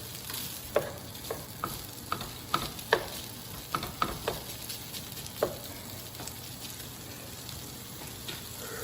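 Sausage frying in a pot for jambalaya, a steady sizzle broken by sharp scraping and tapping as a utensil stirs the pieces, close and moderately loud, with no talking.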